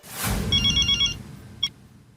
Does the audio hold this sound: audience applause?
no